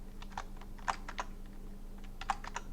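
Soft computer keyboard keystrokes click in small irregular clusters over a faint steady hum, quiet and close.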